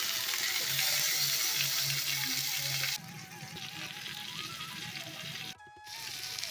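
Tandoori chicken frying in an open pan over a low flame, with steady sizzling throughout, a brief sharp break near the end, then the sizzle resumes.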